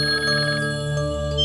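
A telephone rings steadily at close range with a sustained electronic tone, running continuously without pauses or talk over it.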